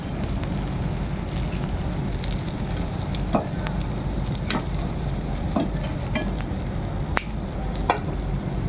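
Fish roe fritters sizzle steadily in hot oil, a constant crackling fry punctuated by occasional sharp pops and light stirring clicks, close and without talk.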